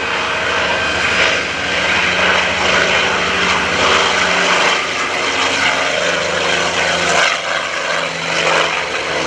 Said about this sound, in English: listen to this sound of radial engine